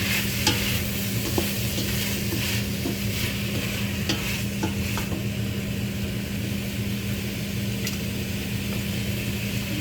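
Squash and shrimp fry in a pan while a spatula stirs them, making a continuous loud sizzle with scraping strokes and a low hum underneath.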